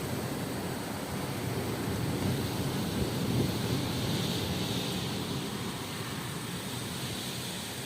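Heavy rain pours down during an afternoon rainstorm with strong wind in Shanghai, a dense, steady rushing hiss that stays loud and even throughout, with no voices.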